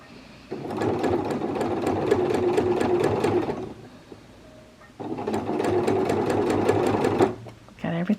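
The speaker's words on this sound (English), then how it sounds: "Kind of pull it a little bit as I sew too, to make sure everything goes in there nice and neatly." A sewing machine stitches a McCall's 8385 garment in two sustained runs of rapid, even needle chatter. The runs are separated by a short pause and are heard up close, with a brief handling noise at the end.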